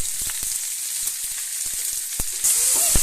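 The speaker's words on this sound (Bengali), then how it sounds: "টমেটো কুচিগুলো দিয়ে ভালো করে নেড়ে নেব।" Chopped tomatoes stirred into ginger and garlic frying in hot oil, giving a steady sizzle with scattered spoon scrapes and taps and a louder hiss near the end.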